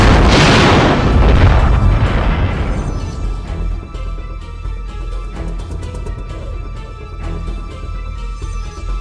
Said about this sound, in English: Explosion right ahead of us.